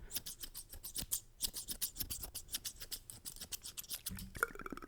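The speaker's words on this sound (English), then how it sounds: "Snip, snip, snip, snip." Scissors snipping right beside the microphone in a whispered ASMR session, a rapid, steady run of crisp, close metallic cuts with barely a pause, quiet overall but sharp and detailed.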